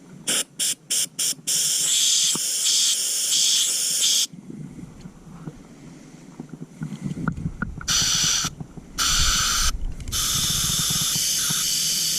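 Compressed air sprays in loud hissing bursts, first several short blasts, then longer sustained jets separated by brief pauses.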